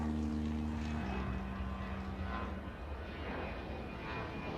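Airliner taking off in the Airport Madness World Edition air traffic control game, a steady engine roar holding at moderate level with a low hum that drops in pitch early on, no talking.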